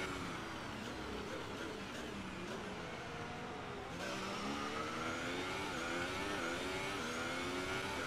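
Formula 1 race cars in the video game F1 2018 accelerating hard, their high engine whine climbing in pitch through gear shifts, several cars blending into a steady, close roar.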